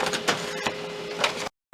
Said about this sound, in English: It's doing a test print.